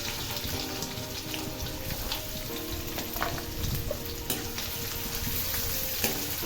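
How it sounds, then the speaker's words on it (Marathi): Finely chopped onion frying in oil with green chillies in a pan, a dense, continuous close sizzle with small crackles and occasional stirring scrapes. "कांदा छान असा पिंक होईपर्यंत तेलामध्ये परतायचा आहे"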